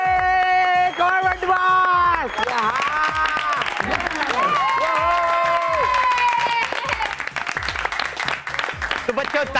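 Applause from an audience honouring a student in a Hindi fantasy TV series, partly masked by loud sweeping music and booming beats that play throughout.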